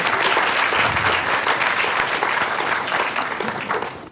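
An audience applauds the president of the Rockefeller Foundation at a formal event, producing a loud, sustained round of dense clapping that tapers slightly toward the end.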